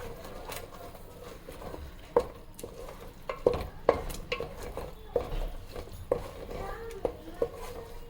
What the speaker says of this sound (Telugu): ఇట్లా కలిదిప్పుకోవాలి బాగా